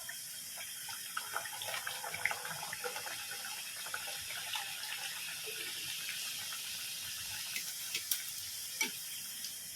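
A steady sizzle of kombdi vada frying in hot oil, with faint bubbling and occasional soft pops throughout.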